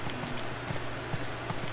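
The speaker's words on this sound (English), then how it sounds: "Let's get back to the horses." Horses in the video game The Last of Us Part 2 give off soft, regular clip-clop hoofbeats that stay moderately quiet and even, heard alone with no talking.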